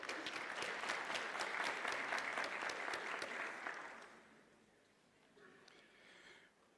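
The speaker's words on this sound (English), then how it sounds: "that is actually worth appreciating and worth applauding" Audience applause at a University of South Africa autumn graduation ceremony, a steady dense clapping from a large crowd for about four seconds before fading to quiet.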